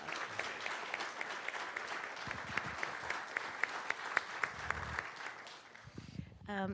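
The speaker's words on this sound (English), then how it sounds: "Let's give them a great big round of applause" An audience at a county board meeting claps for a group of girls, a moderate round of applause with distinct nearby claps, under faint voices, tapering off before speech begins at the end.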